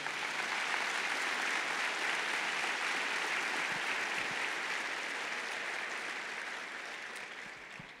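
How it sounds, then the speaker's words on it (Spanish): Spanish-speaking church congregation applauding the Lord, a thick sustained roar of many hands clapping at full strength before gradually tapering off near the end. "Dale un aplauso al Señor"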